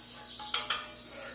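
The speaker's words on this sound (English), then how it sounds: "right now I'm getting the frying pan warmed up" A frying pan warming up for a teriyaki vegetable stir fry gives a steady faint sizzle, broken by two quick utensil scrapes or clinks close together.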